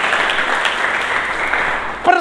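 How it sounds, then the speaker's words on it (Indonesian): A church congregation applauds in a steady, loud burst of clapping, and a voice breaks in over it near the end. "Berikan tepuk tangan bagi Yesus"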